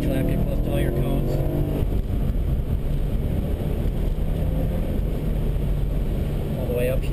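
A BMW M3 laps a coned race track at a Skip Barber driving school, its engine droning steadily and loudly throughout, with a voice talking over the noise.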